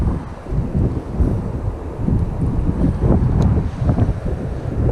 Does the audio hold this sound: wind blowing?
yes